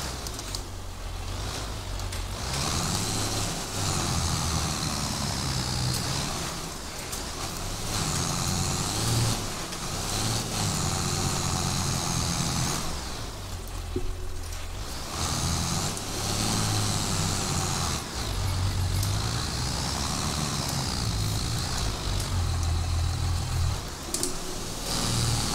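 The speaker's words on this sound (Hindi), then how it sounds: "तीसरे मीडियम में बहुत पावर है ट्रैक्टर में" Simulated tractor engine in Farming Simulator 22 with an Indian tractor mod, a steady loud low drone running throughout with slight rises and dips as the machine works along a road.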